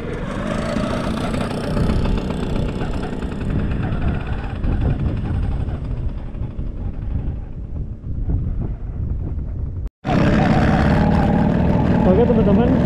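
A classic 1975 Vespa Super scooter rides over sandy ground, its engine a steady rumble buried in heavy wind buffeting across the microphone. A sudden brief cut comes near the end before the noise returns.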